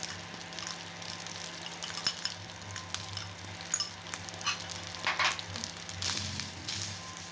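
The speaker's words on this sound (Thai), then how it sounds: "ในขั้นตอนนี้เดี๋ยวเราจะมาผัดข้าวนะครับให้ล้วนซุยเลยนะครับ" Rice mixed with egg yolk stir-fried in vegetable oil in a pan, a steady close sizzle broken by scraping and tossing sounds, with no talk.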